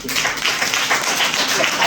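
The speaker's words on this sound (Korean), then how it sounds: "그리고 박수 치는 법도 제대로 배우셔야 돼요" Hands clap rapidly and continuously in a church-sermon demonstration, producing a dense, steady patter of near claps with no gaps over the short stretch.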